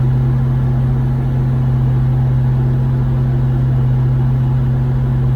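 A 1988 Toyota 4Runner SR5 V6 with a 5-speed idles after a cold start, giving a steady, loud, even engine drone that holds unchanged from start to finish.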